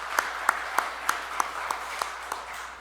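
Slow, evenly spaced single claps, about eight in a row, fairly close and clear, as a church congregation welcomes four visiting elders during Sunday morning worship.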